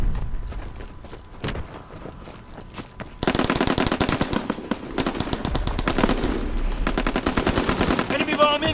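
Rapid bursts of gunfire from the World War II shooter game Call of Duty WW2, sparse shots at first and then sustained, loud automatic fire with explosions and battle noise, starting around three seconds in.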